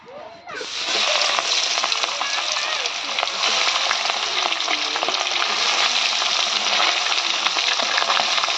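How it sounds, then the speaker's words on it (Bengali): Fish fries in a hot pan with a loud, continuous sizzle that starts abruptly and holds steady throughout, close up. "আর সেই মাছ ভাজা"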